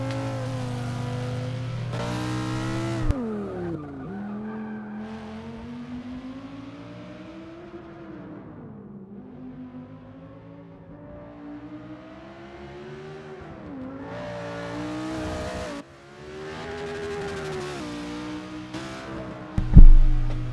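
A Ferrari 488 GTB, Lamborghini Huracan or McLaren 650S sports car engine in the video game Forza 6 revs hard, its pitch climbing and falling through gear changes, building again before ending in a sharp loud burst.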